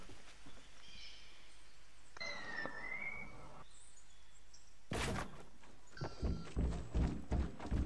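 Dull thunks and clattering knocks from structures being built in Fortnite, some sharp and close, with a whistling tone and scattered effects, no talking.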